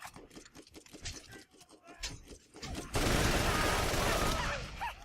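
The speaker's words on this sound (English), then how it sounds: "the weapon I am currently using, because I'm sure a lot of you are going to ask, is it's an Ajax Ogre" Rapid gunfire from an Ajax Ogre assault rifle in a Borderlands custom DLC area, loud dense bursts filling the second half after lighter scattered shots and game noise.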